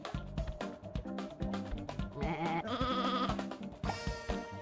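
Sheep bleating in the PS1 video game Looney Tunes Sheep Raider: several wavering, nasal bleats in succession over busy game sounds and music, fairly quiet overall.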